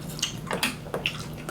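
Water drips falling in a home kitchen, a few separate bright plinks spaced irregularly over a faint low background hum, close and moderately loud.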